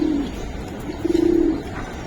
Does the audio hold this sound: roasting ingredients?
no